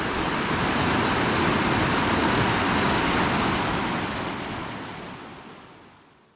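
Steady broadband rush of a flowing creek in the Indian Peaks Wilderness, loud and continuous, slowly fading out toward the end.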